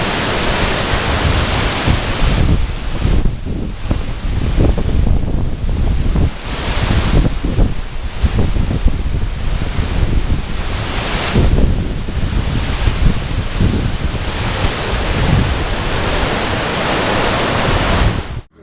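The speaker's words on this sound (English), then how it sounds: "I made it to the waterfall." Loud, roaring rush of a Himalayan waterfall in India fills the air continuously, with gusts of wind buffeting the microphone.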